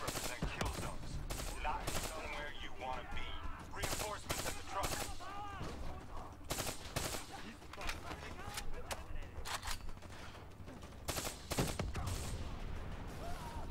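Rapid bursts of gunfire from the Black Ops 3 video game crackle in quick, uneven volleys, single shots and automatic strings mixed, with a voice talking over the firefight.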